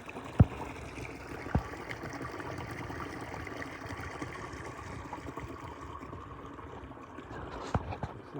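Water from a woodland stream flows past boulders in a steady, broad rushing wash. A few sharp knocks stand out near the start and end.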